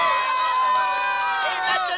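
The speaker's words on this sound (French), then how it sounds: "Quelques applaudissements, je vous prie." A cartoon crowd of insects at a bee beauty contest cheers and whoops, a bright busy mass of high excited voices that swells toward the end, with only faint clapping beneath.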